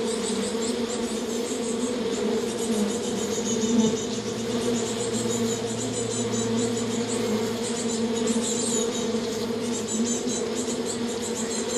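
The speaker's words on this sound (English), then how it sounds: "Have you ever seen a corridor leading to a beehive?" Bees swarm in a corridor that leads to a beehive, making a dense, continuous buzzing hum. Individual insects whine past up close throughout, and no voices are heard.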